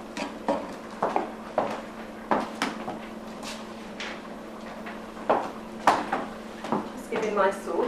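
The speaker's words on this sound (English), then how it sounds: "Giving my soup a quick stir there." A spoon stirs soup in a pot with scattered soft clunks and scrapes against the metal, heard close in a kitchen at an irregular pace.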